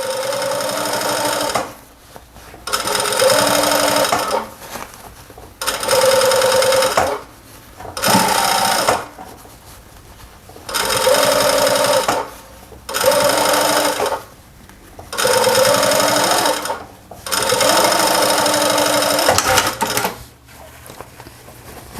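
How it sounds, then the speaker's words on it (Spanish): Sewing machine stitching the seam of a fabric welding cap, running in about eight steady bursts of a couple of seconds each with short stops between, close and fairly loud. "Ponen la costura la jalan hacia donde van a pasar la máquina y ahí la cosen"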